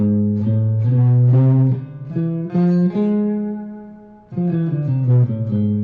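Clean electric guitar picks out a harmonic minor scale one note at a time, each tone ringing clearly with steady, even spacing and no voices.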